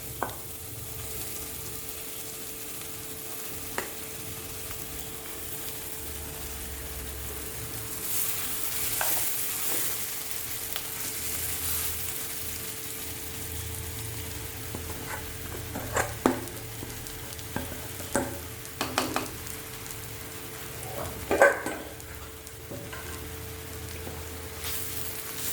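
Boiled tapioca is stirred into fried onions and curry leaves in a pan, a soft steady sizzle broken by scattered scraping and clacking strokes that cluster toward the end.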